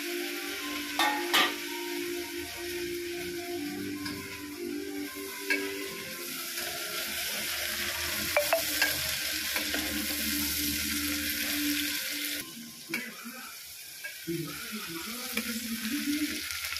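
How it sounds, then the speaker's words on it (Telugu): Chopped tomatoes go into a pan of browned onions frying in sesame oil, setting off a loud steady sizzle with intermittent stirring and scraping that briefly quiets, then resumes. "ఇక్కడ ఆనియన్స్ అయిపోయాయి, బ్రౌన్ కలర్ లో వచ్చేసాయి కాబట్టి ఈ టమాటోస్ వేసుకోవాలి"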